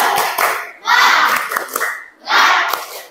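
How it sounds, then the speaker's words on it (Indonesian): Schoolchildren in an Indonesian classroom doing a rhythmic spirit clap, quick bursts of group clapping mixed with loud shouted chanting from the class. "tepuk semangat"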